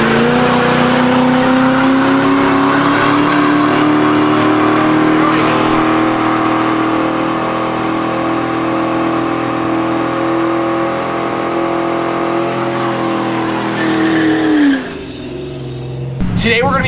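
A V8-powered Mustang drift car, remotely controlled, holds a loud, steady engine roar at sustained high revs through a burnout for about fourteen seconds before the revs drop sharply and cut off; voices are heard over the engine.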